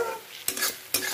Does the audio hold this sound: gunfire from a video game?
no